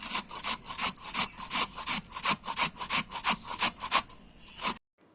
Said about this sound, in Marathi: अशाच पद्धतीने मी इथे सगळे आंबे किसून घेणार आहे